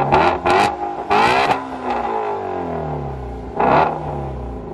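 A car engine blares through a homemade aluminum exhaust pipe, loud and close, with several sharp revving bursts early on, a falling whine as it settles, then one more rev near the end.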